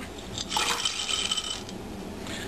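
Chocolate tipped into warm cream in a pot for a croissant chocolate bread pudding, giving a brief pouring, scraping rush lasting about a second, close and fairly loud with no talking.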